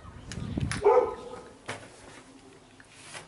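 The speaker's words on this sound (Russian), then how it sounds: "Это соседская собачка лает." A neighbours' small dog barks outside a house along the Minsk–Brest road in Belarus, a short burst of a few yaps fairly close by, then fading to quiet outdoor ambience.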